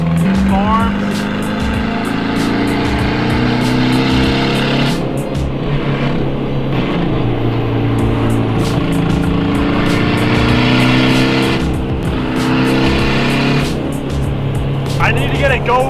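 A car engine revs hard through third gear, loud and close from inside the cabin, rising and falling with shifts, while wind and road noise fill the background.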